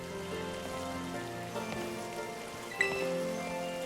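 Steady patter of rain falling in the video game Pokemon Violet, a soft even wash running under the game's background music with small chimes and tones near the end.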